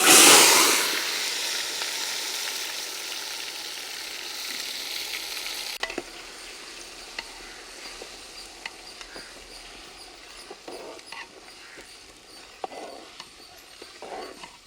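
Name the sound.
dry spices and paste frying in hot oil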